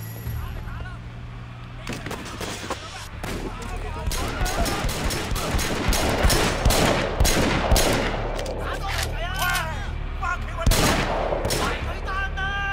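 Gunfire in the open-world action game Sleeping Dogs, rapid bursts of shots crackling in dense clusters over a low engine hum, with someone talking over parts of it.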